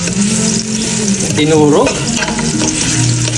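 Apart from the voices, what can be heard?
onion frying in a pan for sinigang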